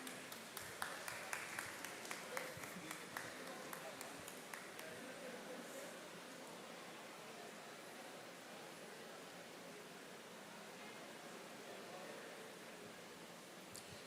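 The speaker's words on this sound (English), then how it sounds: "Keep the applause coming." Applause from a university convocation audience, a few sharp distinct claps at first that merge into a faint, steady wash of distant clapping lasting over ten seconds.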